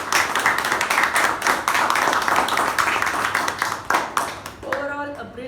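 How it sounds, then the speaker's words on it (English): A meeting audience gives a dense round of applause that stays loud and fills the room, then thins to a few scattered claps with a voice coming through near the end. "Now we have to give a huge round of applause"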